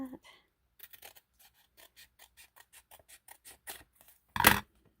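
Scissors snip through a junk mail envelope in a quick series of crisp, close cuts, followed by a louder rustle of paper handling.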